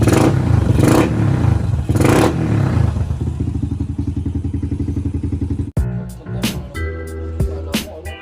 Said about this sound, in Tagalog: Pero eh, eh maririnig niyo naman tunog oh.